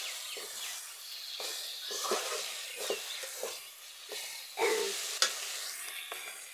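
Dried fish and taro stolons frying in a pan, with a spatula stirring and scraping in repeated strokes over a steady close sizzle, with no talk.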